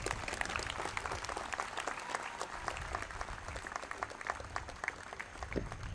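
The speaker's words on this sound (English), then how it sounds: "Please give Mr. Gulab Chand a warm standing round of applause for his wise words" Audience at a design institute convocation giving a speaker a standing ovation: dense, continuous applause from a large crowd, fairly distant and even in level throughout, with faint murmuring mixed in.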